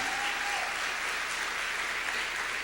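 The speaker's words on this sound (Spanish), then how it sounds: "Puedes festejar conmigo con un aplauso" A church congregation breaks into applause at a sermon, a dense, steady wash of clapping from many people that fills the space throughout.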